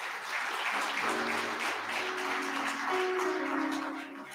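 Audience clapping in praise at a church-style service during a school founder's day and awards program, a steady sustained round of applause with some voices or singing tones mixed underneath.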